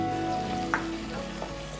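Ginger garlic paste fries in a pan with a soft, continuous sizzle and a couple of faint stirring scrapes, quiet and close.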